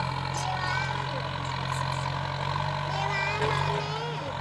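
A steady low Kubota M9540 tractor engine idles with a constant mechanical drone, while a voice talks faintly over it throughout.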